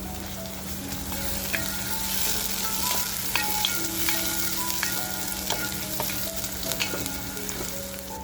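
Chopped onions and fresh coriander fry in oil for a mutton masala, a steady bright sizzle with scattered spatters and pops over a constant low hum, close up and with no talk.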